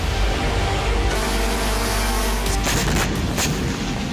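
A loud, deep boom rolls out like a heavy blast, followed by crackling, rumbling aftershocks with no voices.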